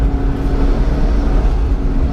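A McLaren supercar engine drones in a steady, loud, low rumble, a continuous close mechanical roar with no clear revving changes over the brief moment.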